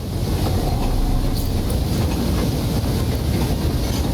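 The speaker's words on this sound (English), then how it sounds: "Literally behind the waterfall." Steady broadband rush of a waterfall in the video game Hell Is Us, heard close and constant with no breaks, a loud continuous roar filling the clip with no voices over it.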